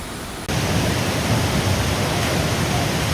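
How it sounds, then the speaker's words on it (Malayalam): Marottichal waterfall roaring up close, a loud, steady broadband rush of falling water that swells in abruptly after a brief quieter moment and then holds constant without a break. "നമ്മളങ്ങനെ മരോട്ടിച്ചാൽ വെള്ളച്ചാട്ടത്തിന്റെ തൊട്ടടുത്താണ് നിൽക്കുന്നത്"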